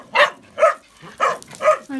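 Young puppies yelping and whimpering up close, four short high-pitched cries in an uneven rhythm, followed by a brief softer whine.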